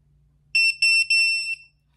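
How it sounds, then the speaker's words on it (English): A BTFDREEM hidden devices detector sounds loud, shrill electronic beeps as it is held near a phone, in three quick bursts with the last one held longer, against a quiet background. "So when it's close enough to the phone and when it's on the right sensitivity, it will beep like that as well"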